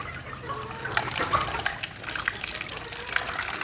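Steady rushing of water running from a hose, a continuous broadband gush with no pauses, fairly close, with faint outdoor background noise.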